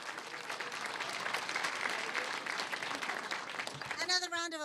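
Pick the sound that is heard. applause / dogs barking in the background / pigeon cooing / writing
applause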